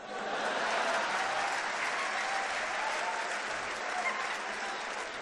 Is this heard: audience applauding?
yes